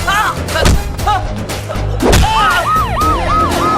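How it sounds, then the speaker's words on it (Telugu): Police sirens wail in a city as a movie sound effect, rising and falling tones layered over thuds and engine rumble, loud and close. "నెక్స్ట్ 60 minutes సిటీ అంతా సైరన్తో మోతం మోగిపోద్ది."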